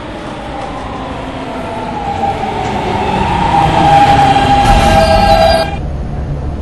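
An R160 subway train rumbles steadily and grows louder as it pulls into a station, with a rising metallic whine and a bright squeal of brakes before easing off.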